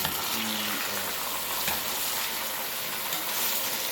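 Carrots, onion and meat fry over high heat for Tajik plov, giving a steady, close, even sizzle with a brief stirring clatter and no talk.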